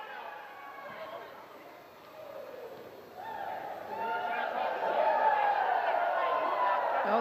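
A basketball crowd in Las Vegas at a WNBA game chatters and cheers, swelling from a moderate murmur to a louder, lively roar while a commentator talks over it.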